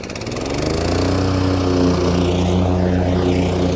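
A Ybravo 25-inch commercial lawn mower engine revving up into high gear, a loud close droning roar that rises in the first second and then holds steady and strong.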